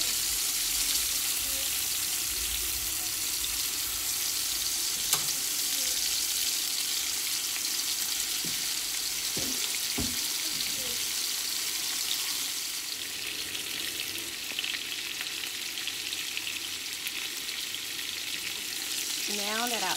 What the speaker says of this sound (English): add your additional patties. And you're going to allow them to brown.